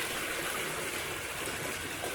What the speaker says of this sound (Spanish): Yo sigo paseando por un maravilloso arroyo de agua que fluye todo el año en el desierto de Judea